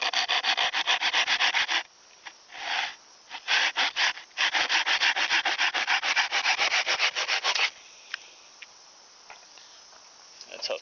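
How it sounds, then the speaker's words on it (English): A hand saw cuts through wood in quick, rhythmic rasping strokes, close and loud, in bursts separated by short pauses, with a few lighter scrapes toward the end. "Use my saw because it's easier."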